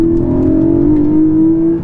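A Porsche 718 Cayman GTS with a naturally aspirated 4-litre flat-six pulls hard, a loud steady tone climbing slightly in pitch over a brief two-second burst heard from inside the car.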